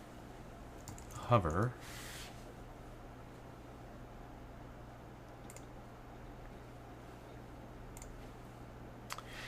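Brief burst of computer keyboard typing while coding JavaScript and jQuery, a quick cluster of clicks near the start, then quiet room tone with faint isolated clicks and a spoken word.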